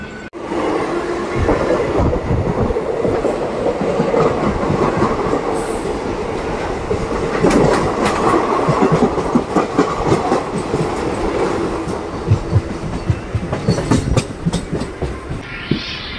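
Local MMTS commuter train running toward Lingampalli in Hyderabad, a steady loud rumble of the carriage with rhythmic clickety-clack of wheels over rail joints throughout, occasional sharper knocks and a brief squeal, no talk.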